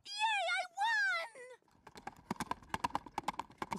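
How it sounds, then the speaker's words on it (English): Horse hooves clip-clopping in a quick, loud rhythm from a cartoon scene, preceded by a short stretch of wailing, moaning vocal sounds. "Was that a horse?"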